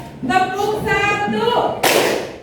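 A classroom of students clapping once together in a counting clap game, a single sharp group clap landing right after a teacher's voice calls the cue.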